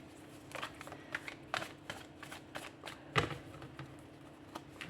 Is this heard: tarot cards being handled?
yes